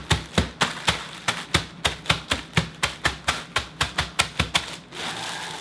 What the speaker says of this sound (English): And then just put the crackers in here. I don't think I even have to close the bag. And then just crush them.